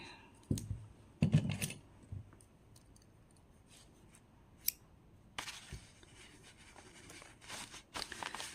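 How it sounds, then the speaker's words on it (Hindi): Scissors cut crochet yarn close by, giving a few soft snips and clicks in a quiet room, with faint handling noise and a light rustle near the end. "अब हम ये जो पीछे धागा है हमारा, इसे आप कट कर सकते हैं"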